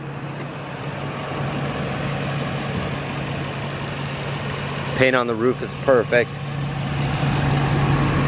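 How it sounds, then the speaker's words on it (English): A 2012 GMC Savana 3500 van's 6.6L Duramax diesel idling with a steady low hum throughout, while someone speaks briefly over it partway through. "I can hear that Duramax humming."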